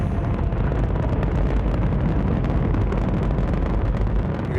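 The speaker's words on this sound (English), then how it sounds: "It is just a huge explosion" Space shuttle launch with solid rocket boosters producing a massive continuous roar, loud and sustained throughout with deep rumbling and crackling, no voices.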